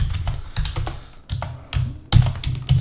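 Quick bursts of keystrokes on a computer keyboard while coding Java, clicking in irregular clusters with short pauses between runs, close and fairly crisp with no voices.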